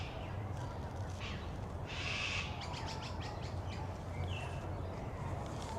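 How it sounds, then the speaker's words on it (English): Cockatoos outdoors in Australia give a few harsh screeching calls, brief bursts at a moderate distance over a steady background hum. "Look at these beautiful cockatoos."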